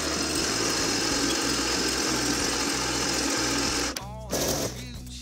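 A homemade mini milling machine cutting a keyway, a steady loud whine with a rhythmic low hum and chatter of the cutter, then a sudden drop near the end as the motor slows and winds down.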